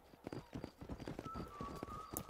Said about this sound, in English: What's that noise? Is that a horse?